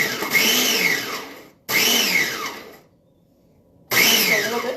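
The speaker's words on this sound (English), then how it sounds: "So I'm going to go ahead and stick the lid on the food processor. And all I'm doing is I'm just going to hit pulse." Food processor pulsing cauliflower into grain-like crumbs: three loud, close whirring bursts of about a second and a half each, broken by a short and a longer pause.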